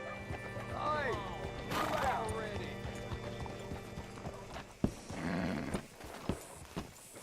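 A horse in the Red Dead Redemption 2 video game gives a couple of rising whinnies and snorts while hooves clop and shuffle, with game speech and small mechanical clinks around it, close and moderately loud.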